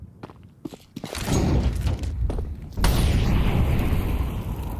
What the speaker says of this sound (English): Nice and deep incendiary to start.